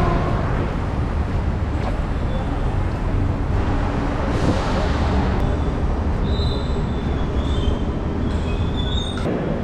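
A Chennai metro train running, with a steady rumbling roar of wheels on track, faint squeals and brief high tones, continuous and close as heard from on board.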